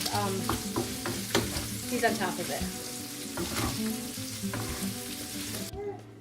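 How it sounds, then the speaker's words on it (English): Steady, crackling sizzle of sausage frying in a hot pot, with some stirring and a brief voice speaking underneath. "Love that sizzle."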